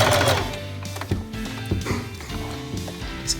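A home sewing machine stitches fabric for a pair of newborn baby pants, with a close run of quick mechanical whirring and clicking that stops and starts in short bursts.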